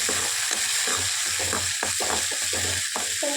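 Sundakkai (turkey berries) fry in hot oil for a Tamil kuzhambu, a steady close sizzle broken by irregular clicking and rattling of the berries, no talking.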